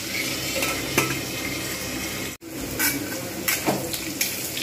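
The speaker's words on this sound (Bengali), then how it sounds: "আলুটা কিন্তু এইভাবে আমি ভালো করে ভেজে নেব।" Potatoes sizzle steadily in a pan while a utensil scrapes and stirs them, close and fairly loud, the hiss continuous apart from one brief gap midway, with no talk.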